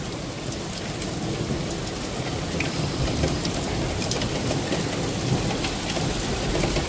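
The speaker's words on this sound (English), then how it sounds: "Just continuous lightning and thunder." Heavy rain from a thunderstorm in Cheltenham, Gloucestershire, UK, a steady dense hiss of downpour on surfaces with low rumbling mixed in, constant and fairly loud throughout, no talk.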